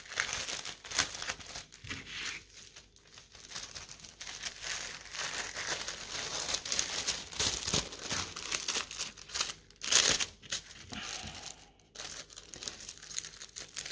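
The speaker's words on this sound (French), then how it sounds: "je vais remettre quand même dans le sachet" Plastic sleeve crinkles continuously as a cross-stitch canvas is slipped back into it, a close, steady rustling and crackling with brief louder crunches and short pauses, no talking.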